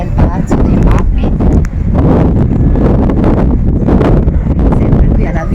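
Wind buffets a microphone outdoors at the Palais des Papes in Avignon, a loud, steady rumbling roar lasting the whole stretch, with no talk over it.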